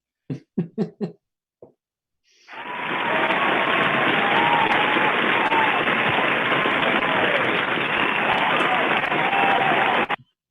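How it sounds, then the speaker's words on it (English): An audience at a business talk for executives bursts into sustained applause after a few scattered claps, a dense, steady wash of clapping that fills the room for several seconds. "So you got the first applause of the day for saying the M word."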